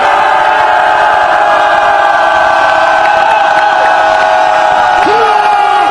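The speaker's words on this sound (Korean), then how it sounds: "그 힘으로 5초간 함성을 지어주세요" Rally crowd at an outdoor protest against election fraud, a loud sustained roar of shouting and cheering lasting several seconds, steady and dense.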